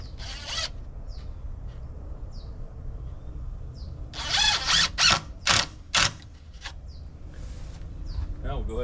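A screwdriver drives screws into a wooden garden gate, heard as a close run of four or five sharp whirring bursts in the middle, with softer clicks and handling noise around them and someone talking before.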